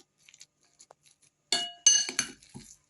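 An egg cracks against a bowl and drops onto curd cheese, a few soft taps followed by sharp glassy clinks and scraping, close and clear in a quiet kitchen.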